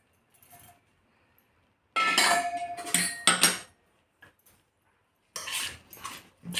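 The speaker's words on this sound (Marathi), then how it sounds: "गरम असल्यामुळं मी थोडं चमच्याने हलवून घेते आधी." A spoon stirring melted ghee into flour in a metal bowl gives short bursts of clinking and scraping, close up, separated by quiet pauses.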